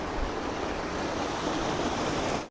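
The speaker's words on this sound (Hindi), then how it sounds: "तो पानी का बहाव आप लोग देखिए यार" A rural river in Taiwan runs high after heavy rain, a loud, continuous rushing roar of flowing water close by, steady throughout before cutting off abruptly at the end.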